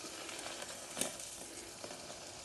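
A cheese omelette fries in a small Trangia camping pan, giving a steady, even sizzle with one brief louder crackle, and no one speaks.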